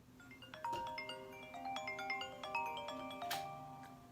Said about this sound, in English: that's the reflections ringtone